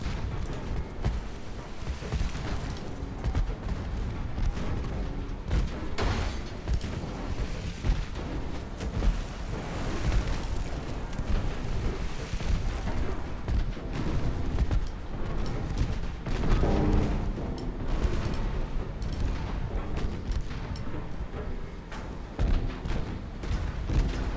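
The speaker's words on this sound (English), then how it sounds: "Why aren't you firing the HE shells?" Heavy high-explosive shells boom from warships in a naval battle in Ultimate Admiral Dreadnoughts, a dense, steady barrage of overlapping blasts and rumbling fire lasting throughout.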